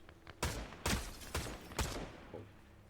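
Gunfire in Fortnite: four heavy, close shots spaced about half a second apart, each a sharp crack followed by a short decay, then a fainter fifth report, with no voices.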